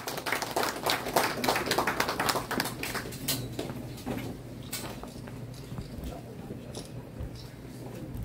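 An audience at an exhibition opening for a calligrapher in a Korean art gallery applauds to welcome a guest. The clapping is brisk and crowded at first, then thins out and fades, with some voices in the room.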